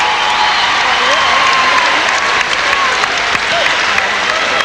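A basketball crowd roars and cheers at the Glass House during a 1993 NBL quarter final between the Perth Wildcats and North Melbourne Giants, loud and sustained, with whistles and voices mixed into the dense noise.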